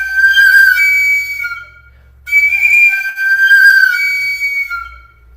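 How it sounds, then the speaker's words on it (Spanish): A Mexican ceramic flute with no finger holes and a sphere inside plays two long, breathy whistling tones with gliding pitch, loud and close, separated by a brief pause. "esta flauta es un ejemplo de eso. No tiene orificios de digitación, tiene una esfera dentro"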